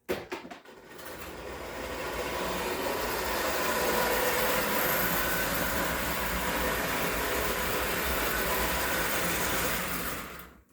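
Prewar Marx toy train running on its track, a steady close whirring and rattling drone that holds evenly for about ten seconds before stopping.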